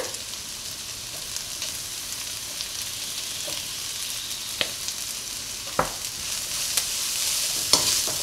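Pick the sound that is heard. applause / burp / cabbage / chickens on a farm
cabbage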